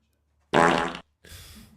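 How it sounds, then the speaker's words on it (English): Two loud, close farts in quick succession, the first longer and rougher, the second softer and airier. "Would you just fart?"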